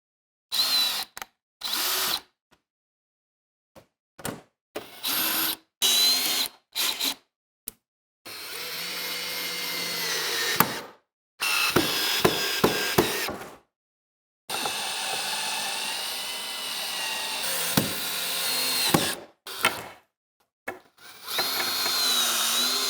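A power drill drives screws into a window clamp ring in repeated bursts of high whining spin, some short and some held for several seconds, separated by silences. It is close and loud, with no talking.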